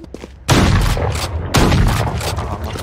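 Gunfire in the video game Valorant: two loud, heavy shots a second apart, each with a long roaring tail, close and dominant with no talk.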